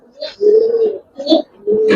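Caged Giribaz pigeons coo nearby in three short, throaty, rolling calls separated by brief pauses, loud and clear with no other sounds.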